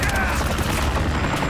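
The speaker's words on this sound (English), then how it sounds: "Watcher, I'm taking fire from the bridge." Dense gunfire from the Call of Duty Modern Warfare 3 game, a loud continuous barrage of shots and blasts with no break, as a voice speaks over it.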